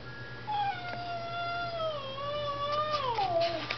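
A cat lets out one long, drawn-out meow that wavers and bends downward at the end, close by, over a low steady hum.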